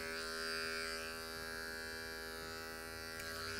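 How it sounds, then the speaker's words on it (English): Electric hair clippers buzz with a steady, close, faint hum while trimming fine hair in a barber setting, holding an even drone with no talking. "So I have the clipper in the open position."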